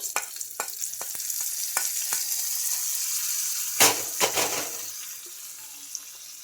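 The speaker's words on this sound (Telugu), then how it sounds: "మన చట్నీకి పోపు అయితే పెట్టేసుకున్నానండి" Hot oil sizzling steadily as a tempering for chutney fries, with occasional stirring clicks and a couple of louder spattering bursts midway.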